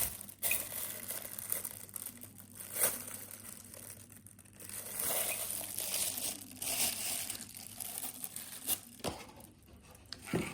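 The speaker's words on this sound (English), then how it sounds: "Let's open the plastic and see." Plastic wrapping torn and crinkled off a gift mug, close irregular crackles and rustles with a few louder tearing bursts, no talking.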